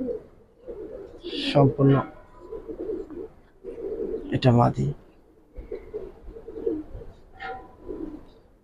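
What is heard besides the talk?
Giribaz pigeons cooing in a loft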